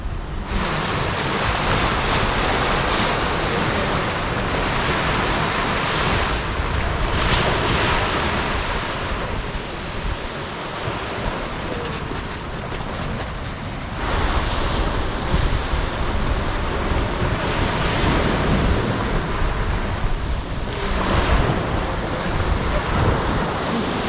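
Ocean waves wash steeply onto the shore at Porto Covo, Portugal, a loud continuous roar of surf with swelling breaks and heavy wind buffeting the microphone, no voices.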